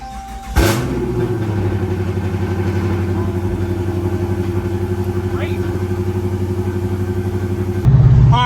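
A Chrysler 300 with a swapped-in Hellcat engine cranks and fires up sharply, then settles into a loud, rough, lumpy idle close by before revving up near the end.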